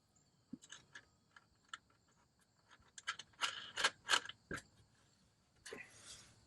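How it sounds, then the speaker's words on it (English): A new nut being threaded by hand onto a fog light stud on a 2000 Toyota Land Cruiser UZJ100, heard as a series of faint close metallic clicks and small scraping ticks with quiet gaps between them. "So I'll get the new nut and put it on there now."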